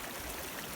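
A river in the Peak District near Kinder flows steadily in the near distance, a soft continuous rush of water outdoors with no voices.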